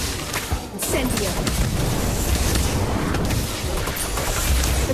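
Incendio fire spell cast in the Harry Potter: Magic Awakened game, a loud, dense burst of booming, crackling blasts that rumbles on steadily for the whole stretch with a crash-like roar.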